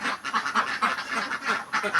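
Egg-laying ducks on a farm quack steadily and loudly in a rapid, overlapping chorus, close by, with no voices.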